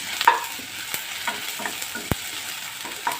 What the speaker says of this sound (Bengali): দেখুন আমি লাল লাল করে ভেজে নিচ্ছি।